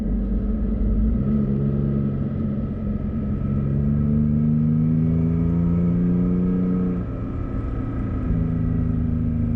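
A 2017 Toyota Tacoma TRD Off-Road pickup with an aftermarket MBRP turndown exhaust drones steadily, its pitch rising gradually as it accelerates through a gear, then dipping and climbing again.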